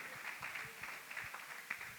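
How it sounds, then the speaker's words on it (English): Graduation audience applauding in a school ceremony hall, a steady faint wash of many hands clapping at a distance with no single claps standing out. "Keep the applause going."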